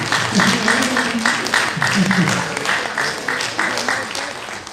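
An audience at a university advisors workshop claps for a professor, rhythmic clapping fairly close, with speech and voices mixed in throughout.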